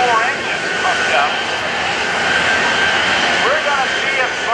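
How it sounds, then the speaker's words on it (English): Three Pratt & Whitney J34 jet engines on a jet truck rev up at a 2015 NAS Oceana airshow, a loud, steady roar filling the whole stretch while a commentator talks over the PA. "As Chris Darnell gets all three of those Pratt & Whitney J34 engines pumped up"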